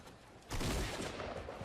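Shotgun fire during a Fortnite match, a short burst of gunfire that swells suddenly and holds for about a second before easing off.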